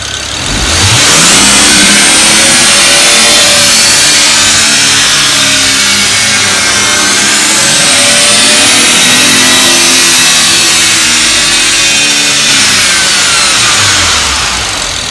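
A BMW E36 fitted with a turbocharged N54 engine revs loudly and close, the pitch climbing and falling in long sweeps, then settling back toward idle.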